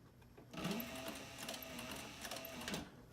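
A sewing machine stitches a dopp kit, starting suddenly after a brief pause and running in a fast, rhythmic clatter of needle strokes for nearly three seconds, close up and fairly quiet.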